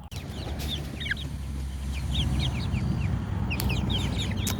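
Meat chickens cluck and chirp on pasture in short, scattered calls over a steady outdoor background hum, moderately close.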